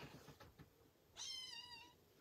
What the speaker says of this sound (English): I love little kitty meows, don't you?